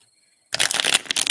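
A deck of tarot cards is shuffled in a short, close, crisp flurry of riffling and slapping that begins abruptly after a moment of near silence.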